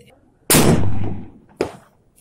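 A single loud, close rifle shot from a carbon fiber wrapped barrel firing 50 grain loads with 27.3 grains of Benchmark powder, a sharp crack that rings out and decays, followed by a fainter second report about a second later.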